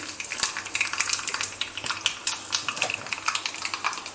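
Oil tempering (popu) with asafoetida crackles and sizzles steadily in a pan for majjiga pulusu, with scattered sharp pops and faint stirring clinks, no talking.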